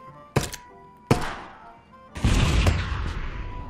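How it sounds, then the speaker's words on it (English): Shotgun blasts in a video game: two sharp, loud single reports about a second apart, then a third heavier boom trailing into a sustained rumble. "Forgot you use a shotgun, you scared the shit out of me then."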